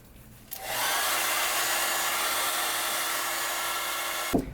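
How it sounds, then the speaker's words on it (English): A hair dryer switches on and blows with a steady, loud whooshing roar for about four seconds, then cuts off abruptly. "Hair dryer."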